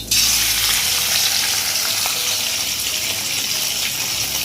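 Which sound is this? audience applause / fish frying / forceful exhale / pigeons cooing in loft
fish frying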